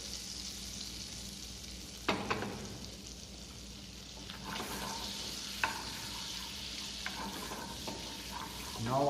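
Butter for a chicken fricassee sauce melts in a pan with a soft, steady sizzle, quiet and continuous, broken by a few light utensil taps and scrapes.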